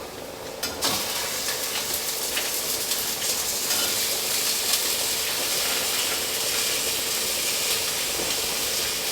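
Ground elk meat sizzles steadily in a hot pan for a shepherd's pie, a continuous hiss and crackle heard up close and alone after a brief clatter as it goes in.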